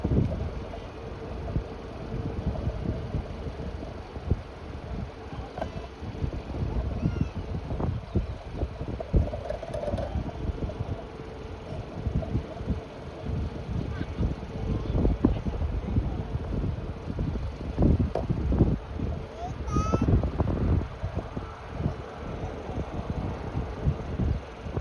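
Steady wind buffeting a microphone outdoors at Fort Lauderdale airport during plane spotting, a continuous low rumble with gusty bursts and faint voices mixed in.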